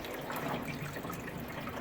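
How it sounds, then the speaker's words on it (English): Water rushes steadily out of the filter opening of a front-load washing machine that had sat unused for a long time, a continuous close gurgling splash with no talking. "You could do this, a couple of times until the water comes out really clean."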